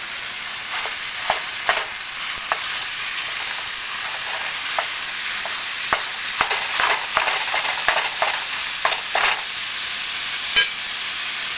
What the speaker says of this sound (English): I have a big gigantic skillet here. We're going to brown this up.